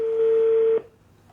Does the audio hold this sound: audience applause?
no